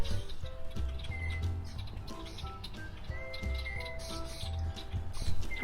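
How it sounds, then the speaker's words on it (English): Birds call and chirp outdoors around someone on a late-winter day, short scattered tweets over a steady low background rumble, moderately faint, with no talking. "If you listen closely, you might actually hear some birds calling around me."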